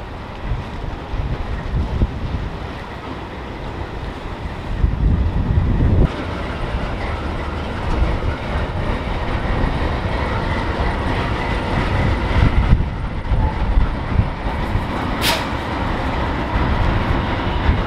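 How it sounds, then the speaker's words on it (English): A train crosses an old rail bridge over the Niagara River into Canada, a loud continuous rumble and clatter of rolling wagons with wind buffeting the microphone, steady throughout with a brief high squeal near the end. "a train coming over from the United States, heading back into Canada over this really, really cool old bridge"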